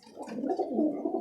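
Roller pigeons coo softly and close by in a short, throaty burbling call that rises and falls over a moment.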